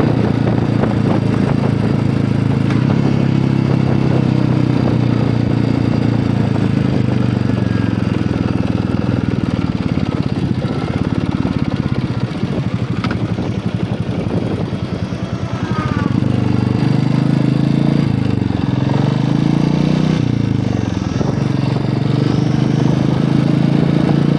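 A rented motorcycle's engine runs steadily while riding along a scenic main road with turns, loud and continuous throughout with a broadband road roar and shifting low engine drone.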